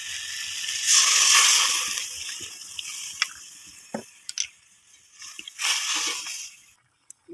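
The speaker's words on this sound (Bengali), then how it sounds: "দেখো, তরকারিটা আমার ফুটে উঠেছে।" Mustard-based topse fish curry with water added comes up to a boil in a pan, giving a steady bubbling hiss broken by scattered pops and drips, close by, before it quiets near the end.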